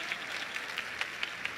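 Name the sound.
audience applause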